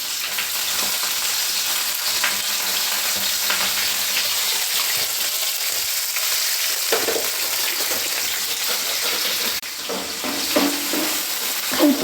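Ivy gourd fries in a pan with garlic, chili and curry leaves, a continuous loud sizzle broken by scraping stirs and clattering spoon movements, with no talking.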